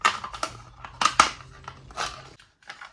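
Scissors snipping through an old plastic hummus container, a quick series of close crisp cuts mixed with crinkling and crackling plastic, briefly interrupted by short pauses; no speech.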